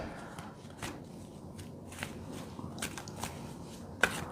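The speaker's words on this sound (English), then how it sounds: "Dramatic shuffle." Tarot cards shuffled by hand in a quiet room, a few soft, separate riffles and taps spread irregularly across a few seconds, faint and close, with no talk.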